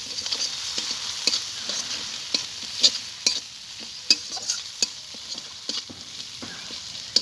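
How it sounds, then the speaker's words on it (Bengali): Cumin and green chili paste sautéing in a pan gives a steady, fairly loud sizzling hiss, broken by frequent sharp scrapes and taps as a spatula stirs through the spices; no voices. "মশলাগুলোকে একসঙ্গে আমি কষিয়ে নেব।"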